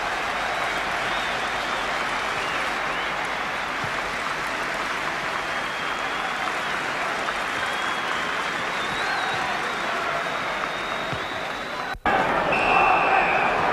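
A 38,000-strong football crowd at White Hart Lane applauds Dave Mackay during a 1969-70 Spurs v Derby County match, a dense, sustained wash of distant clapping that swells briefly near the end, with commentary heard over it.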